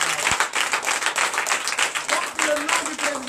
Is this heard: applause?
yes